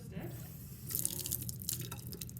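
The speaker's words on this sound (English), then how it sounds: "I'm gonna rinse my stir" A stir stick is swished and rinsed in a container of water during a mixtures lab, giving a few brief, faint splashes and trickles against a quiet background.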